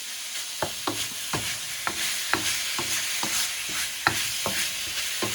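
Meat stir-fries in an electric wok, hot in the middle, with steady sizzling broken by a series of sharp scraping clacks from a utensil stirring and pushing the food around.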